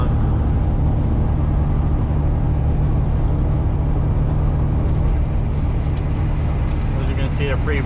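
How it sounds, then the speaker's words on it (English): A Freightliner Classic XL big rig truck driving, with a steady loud low engine and road rumble filling the cab throughout and faint rattling above it. "Just trying to stop the truck from rattling, which is not gonna happen."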